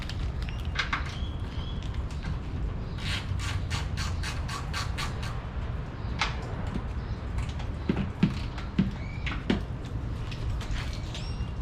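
A size 12 socket wrench loosens strut bar bolts on a Nissan 370Z, giving bursts of quick, light ratcheting clicks up close against a quiet workshop background.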